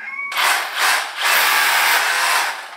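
A power drill runs loudly in close bursts while starting holes for a greenhouse trellis wall, whirring in three or four surges with short pauses between them.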